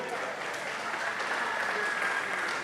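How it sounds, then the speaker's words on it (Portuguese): Church congregation clapping in praise during a worship service, a continuous, even wash of applause throughout, with faint voices mixed in. "Você pode aplaudir a Ele nessa noite?"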